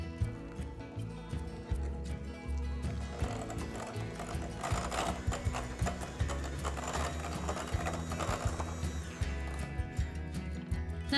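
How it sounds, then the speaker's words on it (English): Electric hand mixer beating cream cheese with honey and vanilla for a grape salad, a steady close motor whir with a rhythmic rattling texture running continuously without pause. "you're just gonna beat this together with a hand mixer"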